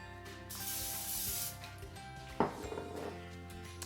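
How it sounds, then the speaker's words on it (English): A short hissing spray from an olive oil cooking spray can, about a second long, close by, followed by a light clatter of kitchen items. "Gonna spray just a little spritz of olive oil cooking spray on it."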